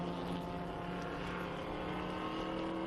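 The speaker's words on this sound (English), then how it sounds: "Here comes the Mustang of Doug Obermeyer across the line in 6th." A Ford Mustang race car crossing the finish line during a vintage road-racing event at Indianapolis, heard as a steady, droning engine roar held at a fairly even distance for a few seconds, with no voices.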